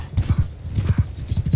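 Horse archers' hooves clip-clop in a Mount & Blade II: Bannerlord battle, quick rhythmic thudding beats in irregular clusters, fairly close, with faint game ambience beneath.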